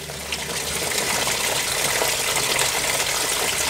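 Coolant water gushes and splashes steadily out of a rusty, crusty cooling system on a 1988 Isuzu Trooper, a continuous close-up liquid pour with no talk.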